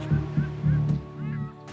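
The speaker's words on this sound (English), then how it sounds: "It's kind of nice to hear the seagulls." Seagulls calling along a remote Bering Strait coastline, a few loud, close honking cries in quick succession, then a softer trailing call.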